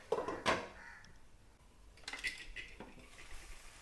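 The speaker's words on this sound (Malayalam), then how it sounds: "അരപ്പൊന്ന് ചൂടായിട്ട് ഇളക്കി കൊടുക്കാം." Ground coconut paste for drumstick thoran being stirred in a pan, with a few quiet metallic clinks and scrapes of the utensil against the pan, faint and sparse, with no talking.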